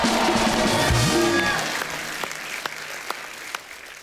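Studio audience on a TV comedy show applauds as a singer is welcomed, a dense burst of clapping and cheering with music at first, thinning after two seconds into a few scattered claps.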